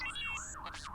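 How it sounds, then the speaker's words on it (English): A wailing emergency siren sweeps up and down in repeated cycles, loud and continuous, with a second tone layered over it, sounding outside a house. "Other than the sirens outside my house."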